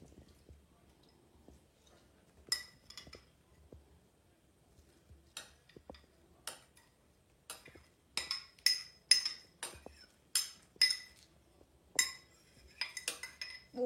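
A metal spoon presses and clinks against sprouted seeds in a bowl, being prepared as parakeet feed, giving a run of light, close clinks and soft wet squishes that grow denser and louder toward the end.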